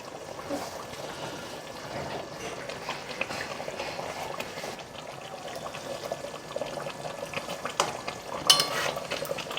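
Paneer cooks in a pan for a malai paneer dish as warm water is poured in, giving a continuous soft sizzle with stirring scrapes and a few brighter clinks near the end.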